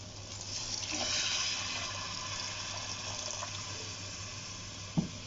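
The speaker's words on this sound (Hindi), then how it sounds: "अब इसमें मैं पानी डालूंगी।" Water runs and splashes steadily into a pot for a few seconds, a soft continuous rush, followed by a faint clink near the end.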